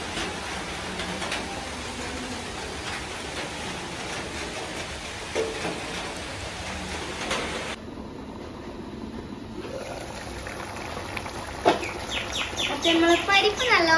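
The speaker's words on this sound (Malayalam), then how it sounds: "നല്ല അടിപൊളി മഴ." Heavy rain pours steadily in a Kerala setting with a cool wind, a dense hiss for the first half before easing, while birds chirp and tweet nearby.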